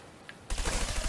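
A short burst of rapid gunfire from the video game Trials of the Blood Dragon erupts suddenly and loudly after a quiet moment.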